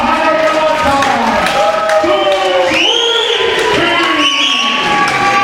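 A wrestling crowd at an ACPW event cheers loudly for the tag team of Brutus Beefcake and Greg Valentine, a dense continuous roar with rising shouts and whistles throughout, while an announcer talks over it.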